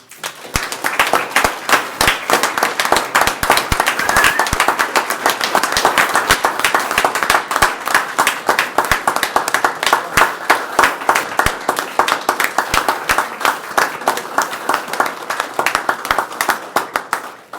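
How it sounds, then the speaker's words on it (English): An audience at a county board meeting claps for honorees, a long even round of close, crisp hand claps lasting well over fifteen seconds, with no talk over it. "Ladies and gentlemen, round of applause, please."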